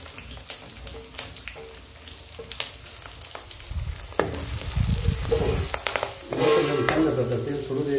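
Whole spices, bay leaf and garlic frying in hot oil, a loud crackling sizzle with sharp pops that swells and intensifies midway, punctuated by the clatter of stirring.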